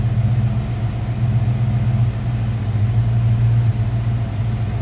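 A 1986 Ford Mustang GT convertible's box-body 5-liter V8 idling steadily from behind the car, a deep continuous rumble with a low, even throb throughout.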